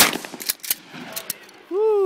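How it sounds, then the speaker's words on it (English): Pistol shots at Burro Canyon private shooting range: several sharp, close cracks in quick succession, each with a brief echo, followed by a voice calling out at the end. "Watch, I'm gonna try to get it with my pistol."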